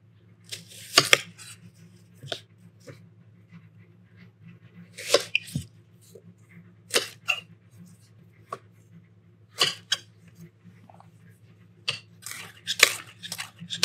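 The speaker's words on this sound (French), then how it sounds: "Ensuite, vous allez émincer vos oignons." A knife slices onions thinly on a board for flammekueche: about ten sharp, crisp cuts come at irregular intervals, close and distinct, over a low steady hum.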